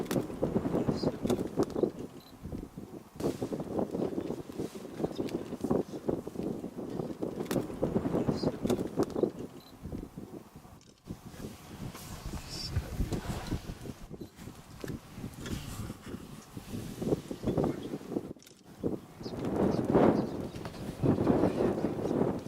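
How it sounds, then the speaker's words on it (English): Wind gusts across open savanna during lion tracking, a continuous rumbling buffet of wind noise on the microphone that rises and falls in strength throughout, with faint bird calls in the background. "Just look at that wind blowing through this guy's mane."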